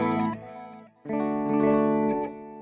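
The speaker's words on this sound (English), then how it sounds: "Got the modulation and the echoes." Slightly overdriven guitar fed through modulated delay on a Line 6 POD Go, one warbling phrase that dips briefly before a fuller chord rings out with wavering repeats, upfront and without speech.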